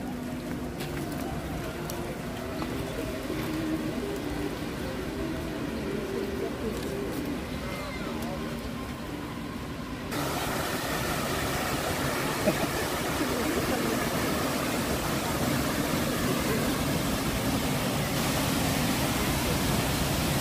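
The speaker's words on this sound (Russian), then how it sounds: "И вот главный центральный фонтан." The main central fountain in Moscow sends out a steady, broad rush of falling water that grows fuller partway through, with people talking in the background.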